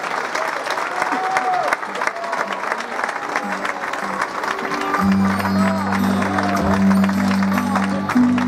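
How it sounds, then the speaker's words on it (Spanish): Sustained applause from the audience at a tribute event honouring Dr. José Halabe, a dense steady patter of clapping with a tonal musical swell joining in halfway through. "Pepe, recibe el aplauso fuertísimo de todos nosotros"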